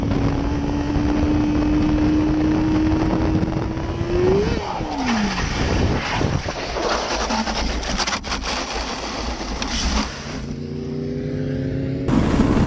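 A motorcycle approaches during a high-speed pursuit, its engine tone rising and then dropping in pitch as it passes close by, with continuous loud road and wind roar and a second engine whine swelling near the end.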